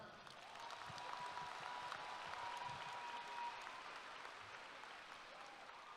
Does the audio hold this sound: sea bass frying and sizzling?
no